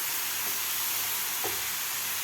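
Vegetables sauté in a pan for veg momos filling, giving a steady loud sizzling hiss with a couple of soft stirring scrapes. The sound is close and continuous, and no one talks.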